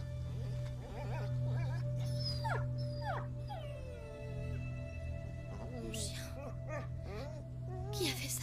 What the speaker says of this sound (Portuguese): É o cachorro, tadinho.